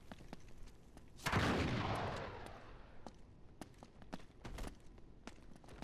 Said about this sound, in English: Wait, who shot at me?